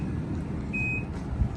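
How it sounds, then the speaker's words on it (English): The power tailgate of a 2013 Infiniti JX35 AWD gives a single clear electronic beep as it closes, over a low steady rumble of background noise. "I think it beeps the whole time while it's closing."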